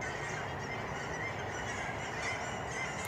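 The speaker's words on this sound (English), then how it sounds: "Somebody needs an acute intervention on these geese." Geese honk faintly in the distance, their calls blending into a continuous murmur of outdoor noise.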